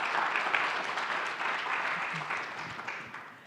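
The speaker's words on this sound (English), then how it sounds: "Y'all clap." Applause from a panel discussion audience, a steady dense crowd of clapping that holds loud for a few seconds and then begins to thin and fade.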